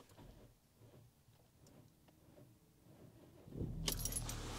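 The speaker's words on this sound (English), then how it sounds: "when I start the engine," A Porsche Cayenne 958 with a suspected weak battery stays quiet for a few seconds, then its engine cranks and catches with a sudden loud surge that carries on steadily to the end.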